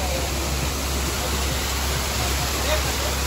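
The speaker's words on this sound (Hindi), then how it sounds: "बाकी इधर भी पहाड़ों से पानी आ रहा है।" Water rushes down from the mountains beside a riverside campsite in Rishikesh, a steady, dense roar of flowing water that fills the whole moment without a break.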